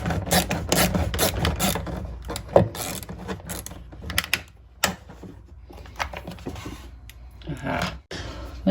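Ratchet working a bolt loose inside a broken dishwasher, giving rapid mechanical clicking and clattering bursts up close, with short pauses and brief metal knocks between runs.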